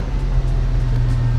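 A red Chevrolet Avalanche rolls past with a low, steady engine and road rumble, close and continuous with no talking.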